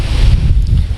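Strong wind blows hard across the microphone outdoors in Zagreb, a loud, low buffeting rumble with a gusty hiss above it, continuous throughout.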